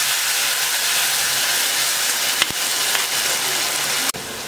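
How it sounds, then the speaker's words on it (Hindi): Onion, garlic, ginger and green chili paste frying in a hot pan for Bihari-style jackfruit curry, a steady loud sizzle and hiss throughout with a couple of sharp clicks from a utensil. "ये हम जो पैटर बना के रखे थे प्याज और लहसुन, अदरक, हरी मिर्च का, वो डाल देंगे, और इसको हम अच्छे से भूनेंगे"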